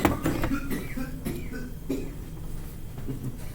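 Audience members in a molecular genetics lecture cough several times in quick, rough bursts, fairly close and dry, fading into a quieter room afterward.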